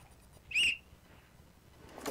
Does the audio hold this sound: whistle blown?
yes